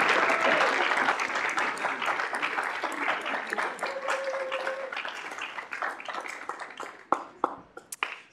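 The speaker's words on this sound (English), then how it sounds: "Give them a round of applause." A room of people at a student government meeting applauding interns, full clapping that gradually thins out into scattered claps, with murmured voices underneath.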